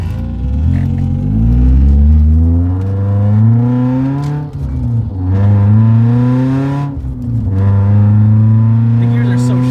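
BMW E36 fitted with a short 4.44 differential, driving in third gear at low speed with the engine droning steadily at low revs, dipping briefly twice as throttle eases, with speech over the engine.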